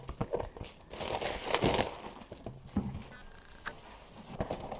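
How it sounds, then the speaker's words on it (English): Crinkly plastic and paper packaging from art journal supplies being unwrapped up close, with rustling, crumpling and soft tearing bursts, louder in the middle and quieter scattered handling toward the end. "So I hope that you're enjoying the unwrapping."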